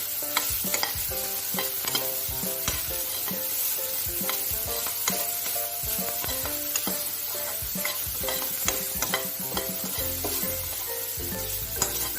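Beans stir-fried in a pan while cooking tricolour rice, a steady loud sizzle with repeated scraping and stirring strokes and light clinks of the spatula against the pan throughout.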